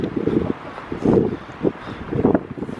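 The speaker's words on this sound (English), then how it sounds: "I bet it's windy on the old sound" Wind buffeting an outdoor microphone in irregular low rumbling gusts, loud and close.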